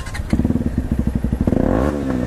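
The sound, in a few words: motorcycle engine started, exhaust silencer noise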